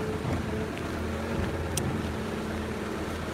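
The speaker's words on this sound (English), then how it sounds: "Det er næsten kun lastbiler." Heavy road traffic, mostly trucks, rumbles steadily past a crossing as a continuous low engine-and-tyre drone, loud and close, with no talking.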